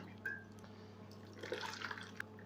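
Homemade marrow-bone broth poured through a strainer, a soft steady trickle and splashing of liquid with a few faint drips, quiet and close over a low background hum.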